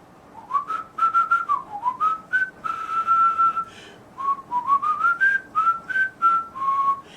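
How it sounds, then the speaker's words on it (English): A person whistles a wandering melodic phrase in short connected notes, clear and close, with a brief pause midway. "first whistle, even if you're not able to whistle an air pattern"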